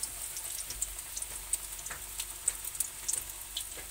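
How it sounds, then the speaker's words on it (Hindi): Cabbage snacks fry in hot oil, giving a steady close sizzle dotted with small pops and crackles that run the whole time without any voice. "बस इसे अच्छे से फ्राई करते हैं।"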